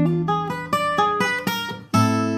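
A chromatic gypsy-style minor blues lick on guitar: a quick run of distinct plucked notes stepping along, ending on a held, ringing note, played alone with no talking.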